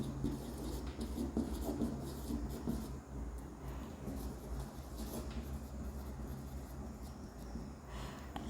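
Pen scratching steadily on paper as notes are written during a biology lecture, a continuous soft scraping over low background rumble, with no voice heard.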